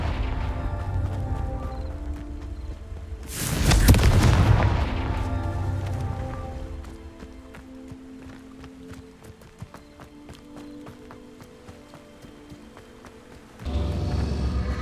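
Blasting-spell explosion on rocks in Hogwarts Legacy: a single loud, booming burst with a rumbling tail over faint game ambience, then quiet for several seconds before another broad swell of sound.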